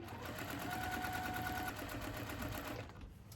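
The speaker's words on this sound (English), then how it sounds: "I'm just going to take a quick back stitch and continue on sewing this seam." A sewing machine stitches a fabric seam for continuous bias binding, a close, steady, rapid mechanical whir that runs evenly for about three seconds before slowing and stopping.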